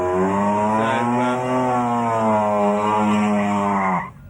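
A Holden Gemini fitted with a 13B rotary engine blasts down the strip at Summernats, its loud buzzing rotary note held at high revs for about four seconds before cutting off abruptly.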